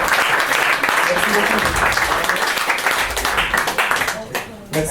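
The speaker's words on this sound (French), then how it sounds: "on peut applaudir Damien encore une fois" Loud, dense applause from a cabaret audience at a mentalist's magic show, sustained for several seconds with voices mixed in before it thins out near the end.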